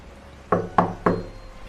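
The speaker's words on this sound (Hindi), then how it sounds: "उसकी सोच में खलल तब पड़ा जब दरवाजे पर अचानक दस्तक हुई।" Three sharp, evenly spaced knocks strike a door late on a rainy night, loud and close, with quiet before and after.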